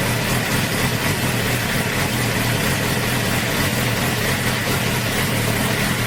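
A 2008 Suzuki GSX-R 750 K8 sport motorcycle idles steadily after an idle fix, a constant close engine drone that holds level throughout with no talking.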